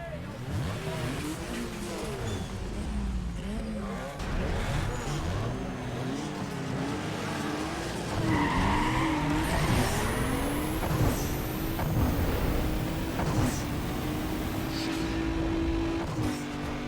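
A 2.0-litre inline-four Mitsubishi Eclipse with a Stage 3 turbo launches down a drag strip in Need For Speed Underground 2, its engine revving hard and climbing through gears under game music and faint talk.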